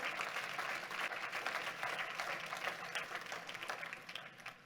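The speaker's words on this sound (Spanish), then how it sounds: "Dele un fuerte aplauso al Rey de la Gloria." A church congregation applauds for the King of Glory: a dense, steady wash of many hands clapping, heard from a distance and fairly faint, with murmuring voices mixed in.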